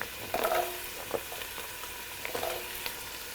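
Carrots go into a pot with pancetta, sausage and onion for a Tuscan soup, Zuppa Toscana, giving a faint, soft sizzle broken by a few light stirring clicks.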